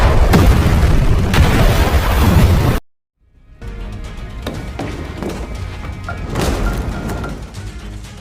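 A grenade explosion in a film: a loud, dense blast cuts off abruptly into a brief silence, then a rumbling, crackling aftermath with debris settling, no voices.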